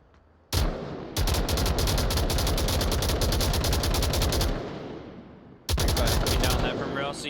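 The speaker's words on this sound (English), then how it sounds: "all this gunshot's going to give out that knowledge" Sustained automatic gunfire from a VR shooter match in Onward, a competitive VRML league game, rattling loud and rapid in long bursts with a short break, while a caster talks underneath.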